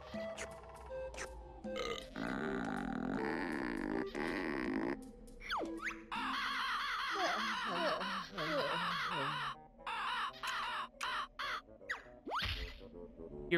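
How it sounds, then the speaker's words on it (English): A giant baby bird in a diaper in the Banjo-Kazooie video game gives repeated squawks, croaks and burp-like grunts over game music and effects, loud and close. "Eerie is gigantic bird in diaper"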